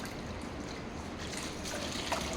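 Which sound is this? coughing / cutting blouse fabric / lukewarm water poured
lukewarm water poured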